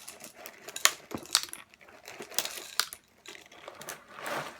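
Sprinkled donut crunch cereal pieces scattering onto a computer keyboard, several light irregular ticks and clatters up close, quiet and sparse.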